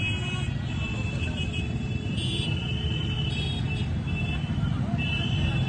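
A police vehicle edges through a crowded motorbike rally, with a steady low engine and traffic rumble running throughout at close range, a loud voice speaking over it.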